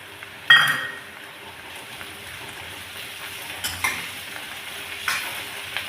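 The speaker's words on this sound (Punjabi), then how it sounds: "ਥੋੜਾ ਜਿਹਾ ਆਪਾਂ ਬਰਾਊਨ ਕਰਾਂਗੇ ਇਹਨਾਂ ਨੂੰ ਥੋੜਾ ਹੀ ਭੁੰਨਾਂਗੇ ਆਪਾਂ ਇਹਨਾਂ ਨੂੰ" Onions and tomatoes fry lightly in a pan, a soft, steady sizzle beneath a sharp clatter at the start and occasional stirring scrapes, with no talking.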